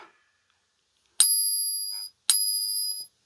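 Two bright, ringing pings from a 90% silver coin being struck, each a sustained metallic tone that holds for nearly a second before cutting off, spaced about a second apart and heard clearly with no talk.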